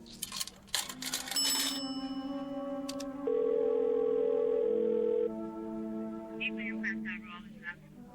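An old telephone is worked in a radio drama to place a call, with a burst of clicks followed by sustained tones, including a loud steady dial tone, and some faint chirping bell-like sounds near the end.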